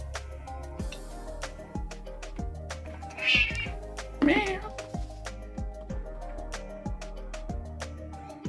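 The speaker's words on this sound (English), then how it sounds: "My cat has been asleep the entire day, and as soon as I start streaming is when she decides to wake up." A house cat, just awake after sleeping all day, lets out two distinct meows close to the microphone, a second apart, over a steady rhythmic thumping in the background.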